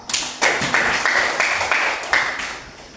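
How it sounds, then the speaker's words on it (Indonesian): Indonesian classroom pupils clapping for a classmate, a short burst of several rhythmic group claps lasting about three seconds, loud and close, then fading. "tepuk tangan untuk Al"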